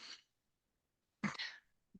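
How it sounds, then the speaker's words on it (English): A single sudden sneeze, close and sharp, follows a short breath and a moment of silence. "excuse me, a sneeze"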